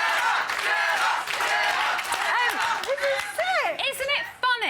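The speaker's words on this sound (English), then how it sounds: "please, put your hands together for Gemma and Chad" A studio audience at a live TV reality show final cheers and whoops loudly while a few claps sound, with a host's voice over the crowd.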